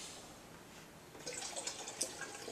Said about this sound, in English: We're going to measure 30 ounces of water again. Let's pour.